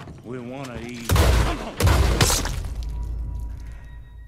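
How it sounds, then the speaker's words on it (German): Gunfire in Red Dead Redemption 2 sounds as two loud, sharp shots about a second apart, each trailing into a ringing decay, after a brief rising whine at the start. "ich habe einfach beide Schüsse rechts und links vorbeigeschossen"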